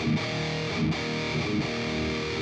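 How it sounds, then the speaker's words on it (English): Electric guitar with an EMG 81 pickup played through a Tube Screamer overdrive pedal into an amp sim, a loud, thick distorted tone with chugging rhythmic attacks. "Okay, and now this is just a tube screamer."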